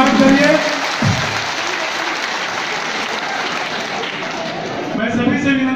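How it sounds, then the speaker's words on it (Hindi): Loud audience applause welcoming Manoj Tiwari, Delhi BJP president, at a Mumbai event: a dense, steady roar of clapping from a large crowd, with a voice briefly over it at the start and end. "जोरदार तालियों से इनको स्वागत करिए।"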